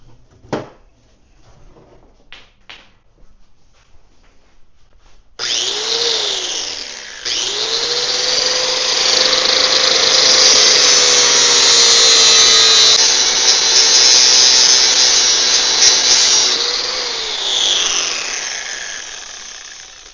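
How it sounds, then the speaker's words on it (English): An angle grinder cuts into a metal gate bar after a few preceding clicks, spinning up into a loud sustained whine that holds for about twelve seconds before winding down, with no talk. "Now let's grind her down and we'll take a look."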